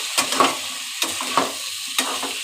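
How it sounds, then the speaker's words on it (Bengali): Masala with ginger garlic paste frying in a pan for a jackfruit curry, loud close sizzling broken by three or four distinct stirring scrapes spaced about half a second apart. "এবার ভালো করে এর সাথে কষিয়ে নেব মশলাটাকে"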